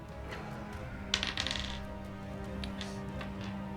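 Two dice are rolled during a tabletop role-playing game, clattering briefly onto a table in a quick burst of small hard knocks that settle within about half a second, over a faint steady background hum.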